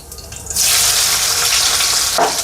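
Crushed garlic hits hot oil with cumin seeds and bursts into a loud, close, steady sizzle that holds for the rest of the moment, with a brief stir near the end.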